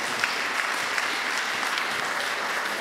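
Audience applause at an alumni network presentation fills the room as a dense, steady wash of clapping from many hands, moderately loud and unbroken throughout.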